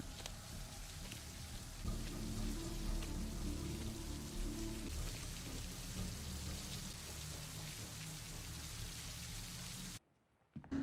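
Steady heavy rain falls through a film scene, a dense continuous hiss that fills almost the whole clip before cutting off abruptly near the end.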